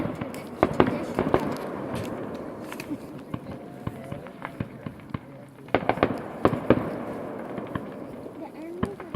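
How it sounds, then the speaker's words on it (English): Fourth of July fireworks going off outdoors: repeated sharp bangs and crackling pops at varied distances, some loud and near, with people talking in the background. "you gotta love fireworks on the 4th of July"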